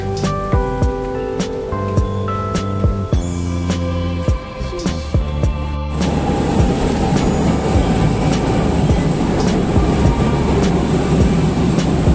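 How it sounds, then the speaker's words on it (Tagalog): A light rail (LRT) train in Manila rumbles and clatters loudly from inside a carriage, with rhythmic clicks over the rails, then the roar swells as speed builds. "this is gonna be my first time riding LRT"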